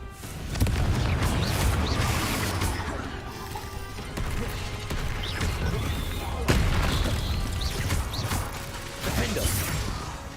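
Confringo fire-blast spell explosions in the Hogwarts Legacy video game: repeated booming crashes and whooshes amid busy combat noise, with sharp bursts near 0.6, 6.5 and 9.5 seconds over a steady rumble.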